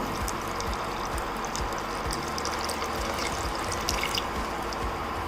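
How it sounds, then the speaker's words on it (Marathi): Milk pours into a pot of boiling masala tea water, a steady close splashing and bubbling liquid rush that runs evenly throughout. "आता याच्यामध्ये आपल्याला दूध घालायचं आहे तर मी अडीच कप दूध घालणार आहे"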